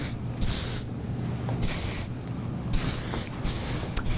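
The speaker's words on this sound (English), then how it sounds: "Use a little bit more of your spray to get that to blend right in." Hairspray hisses from an aerosol can in four or five short bursts, each about half a second long, close by with quiet pauses between.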